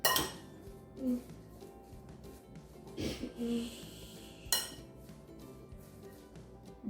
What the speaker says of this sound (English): I'm just stirring the dressing in, making sure everything's all nice and coated